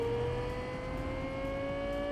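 A Bugatti Veyron's engine in the video game Cyberpunk 2077 holds a steady, high-pitched whine with a low rumble beneath, sustained and close for about two seconds, with no voices.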